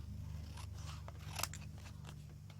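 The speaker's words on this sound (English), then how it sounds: "Just gonna cut this out real quick." Scissors snip through a pattern template for making dolls, a steady run of close, crisp cuts with one sharper crunch partway through, over a low constant hum.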